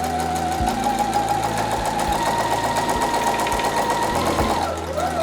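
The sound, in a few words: sewing machine stitching fabric face mask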